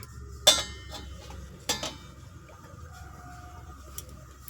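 A metal lid set onto a pot of hot water for boiling eggs, giving two sharp clinks close by, then a quieter rattle and faint kitchen background.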